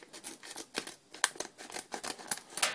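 Scissors snip repeatedly through a plastic blind bag holding a Doctor Who collectible card, a quick irregular run of sharp close cuts with no voices.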